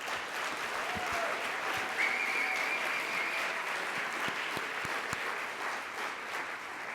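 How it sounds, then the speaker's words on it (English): A conference audience at a family conference session claps for a panel, a dense, steady wash of many hands that holds at an even level for the full seven seconds, with a faint whistle-like tone briefly rising above it. "How about one more round of applause for our panel?"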